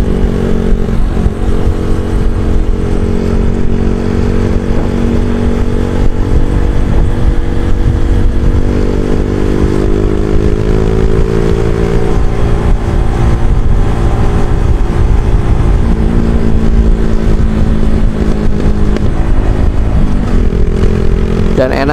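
A Jupiter Z1 motorcycle fitted with a Tsukigi aftermarket exhaust is being ridden, its engine droning loud and close without pause, with slight rises and falls in pitch and heavy rumble and wind noise throughout.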